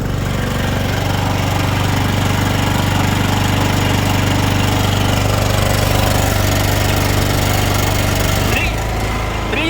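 A Weima WM2500 petrol generator runs loud and close under maximum load, its engine droning steadily before a brief change in pitch near the end.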